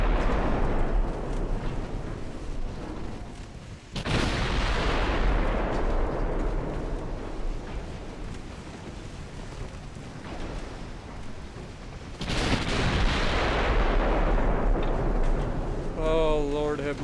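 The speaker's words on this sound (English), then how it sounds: "Load up some AP for me with your 14-inch guns" Heavy 14-inch naval guns firing armor-piercing shells in the naval strategy game Ultimate Admiral Dreadnoughts: two deep, booming salvos with long rumbling tails, a voice speaking under the roar.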